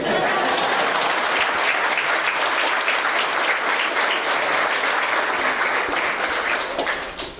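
Steady audience applause at a talk, a broad crackle of many hands clapping at an even level for several seconds before dropping off abruptly at the end.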